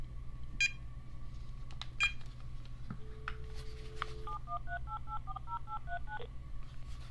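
A phone paired to a Groove Onn LED Bluetooth speaker dialing out: a couple of isolated beeps, a longer tone, then a rapid, evenly spaced string of dialing tones, clear but fairly quiet.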